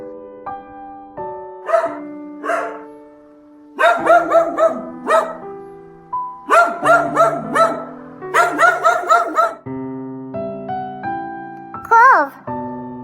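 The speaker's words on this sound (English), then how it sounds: "Dog." A dog barks in quick repeated bursts, loud and near, grouped in several runs over light music, with a voice appearing briefly.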